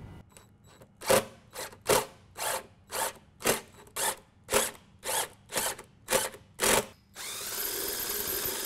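A drill bit bites through metal in about a dozen evenly spaced close bursts, enlarging holes in the pinch weld of a Chevrolet Colorado to 21/64 inch, ending in a steadier, sustained whir.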